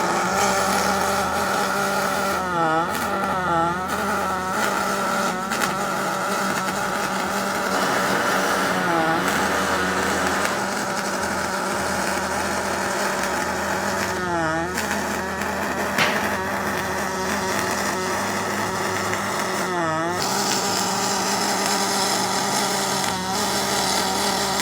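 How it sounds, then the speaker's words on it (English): A welder lays a line of pulse welding on a log splitter in a workshop, a steady buzzing hum with a rhythmic pulsing texture throughout, continuous and close amid background machine noise. "he's going to be doing a line of pulse welding now."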